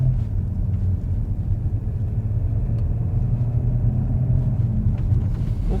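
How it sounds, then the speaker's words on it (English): An Audi S4 fitted with upgraded transmission mounts drives along a road, a steady low engine and tyre rumble heard from inside the cabin, continuous and fairly loud with no talk. "let's take this car for a ride and actually see whether this transmission mount has made any difference"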